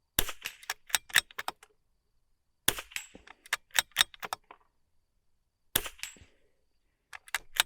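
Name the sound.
rimfire gunshots hitting steel spinner targets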